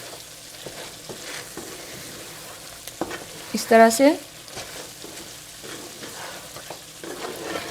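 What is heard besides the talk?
cloves and fenugreek seeds frying and stirred in mutton karahi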